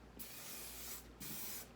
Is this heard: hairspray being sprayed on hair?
yes